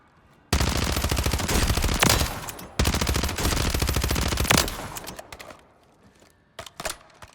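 Bursts of rapid SMG fire in a Warzone video game firing range: two long, loud, fast-cycling strings of shots separated by a short gap, then trailing off into a few scattered single shots.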